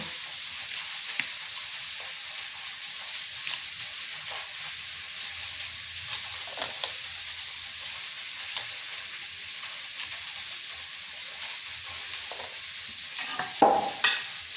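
Okra frying in a pan, a steady faint sizzle and hiss with occasional light stirring clicks, a louder scrape near the end, no speech.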